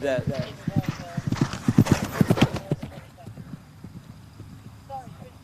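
A horse gallops on a cross-country eventing course, a rapid, rhythmic clip-clop of hooves loud and close for about three seconds before fading, with a commentator talking over it.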